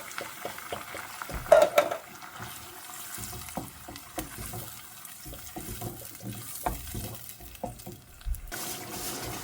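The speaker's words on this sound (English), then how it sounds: "Just add in your chopped tomatoes" Chopped tomatoes going into a hot pan while cooking baked pasta, giving soft wet clatter and stirring scrapes with light sizzling, a run of close irregular knocks and splashes.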